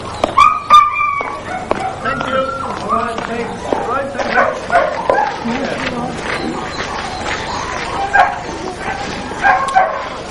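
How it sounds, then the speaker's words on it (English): Greyhounds bark and yip at a racing stadium in England, with sharp, repeated barks and whimpers scattered over steady crowd murmur and a voice talking. "These dogs are greyhounds, and greyhound racing is very popular in England."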